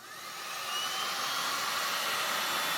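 A heat gun blows steadily close by, drying a fresh coat of decoupage finish; a continuous airy whoosh builds over the first second, then holds loud and even with no talking.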